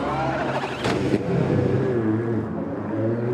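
An endurance race car pulls out of the pit lane after refuelling at the 2019 6 Hours of Fuji, an FIA WEC round. Its engine gives a steady, close, rising drone that carries on for the whole moment.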